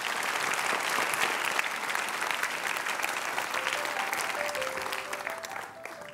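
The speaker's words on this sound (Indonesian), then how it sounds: "Kasih tepuk tangan dulu." An indoor audience claps steadily at an event, a dense, sustained burst of applause that fades slightly toward the end.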